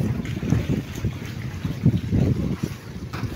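A boat's motor hums low and steady nearby as it heads out, mixed with gusty wind buffeting the microphone and faint water sounds.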